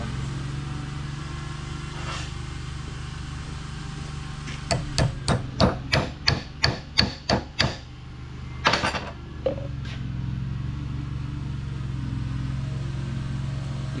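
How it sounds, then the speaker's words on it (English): A hammer taps a metal spinner onto a Chandler 10-PT-FT fertilizer spreader, a quick run of about nine sharp, close metallic strikes followed by a few more scattered knocks over a steady low background hum. "now there's the hammer"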